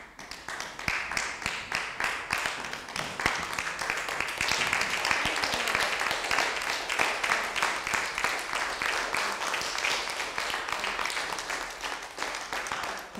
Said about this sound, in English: Why don't you stand up and give him a hand clap?